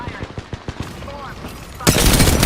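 Rapid gunfire in a shooter video game: a string of sharp close shots, then a burst of dense, loud automatic fire near the end, with no voices over it.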